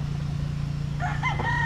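A gray rooster, a young broodstag with a short tail, crows once near the end, a short rising call cutting over a steady low hum of farm background noise.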